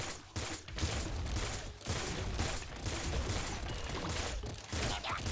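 Rapid gunfire from the twin-stick shooter Nuclear Throne Ultra Mod, dense repeated shots and mechanical clatter running steadily throughout at a fairly low overall level, with no talk.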